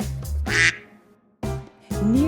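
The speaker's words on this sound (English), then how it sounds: ""Oh, ducks," she said." Ducks quacking near a pond at an animal park, a few loud, close quacks in short bursts separated by a brief pause.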